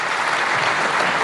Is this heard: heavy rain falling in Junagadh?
no